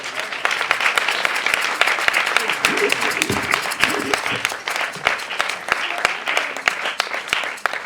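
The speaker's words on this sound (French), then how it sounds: "Applaudissez encore." A theatre audience applauds continuously after a stage performance, a dense patter of many hands clapping with a few sharper claps standing out, and a voice briefly heard beneath it.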